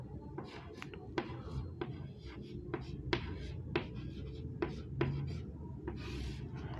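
A pen writes an answer by hand for a class-six science exercise, producing soft, close scratching strokes with regular ticks as letters are formed, over a faint background hum.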